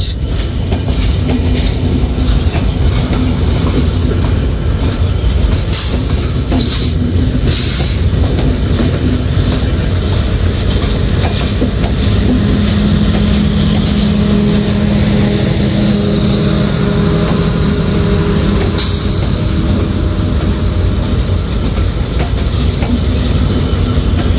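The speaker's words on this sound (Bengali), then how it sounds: "আর এই হলো আজকে আমাদের লোকোমোটিভ 6605।" The Silkcity Express from Dhaka to Rajshahi, hauled by locomotive 6605, runs steadily with a loud continuous rumble, rhythmic wheel clatter on the rails and occasional brief squeals, with no talking.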